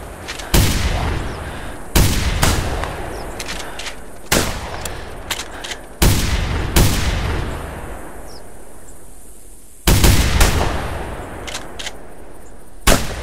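Loud, close gunshots sound from a goose hunt in the video game The Hunter, sharp single reports spaced a second or two apart, each trailing off in a long, rolling echo.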